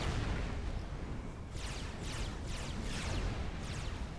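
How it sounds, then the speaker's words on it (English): Heavy gun fire in the real-time strategy game Forged Alliance, a series of about five booming shots spaced roughly half a second apart over a constant rumbling battle bed. "And of course, large amount of damage kicked out from that gun."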